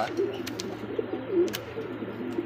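A male pigeon coos at a pigeon market stall, several soft, low, rolling calls spread across a couple of seconds at close range, with faint background noise and no speech.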